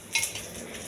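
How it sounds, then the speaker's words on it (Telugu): Urad dal with husk frying in a pan with ginger, curry leaves and dry chillies, giving a short burst of bright sizzling with stirring scrapes that settles into a steady soft hiss. "పొట్టుతో ఉన్న మినపప్పు ఫస్ట్ వేగించాలి"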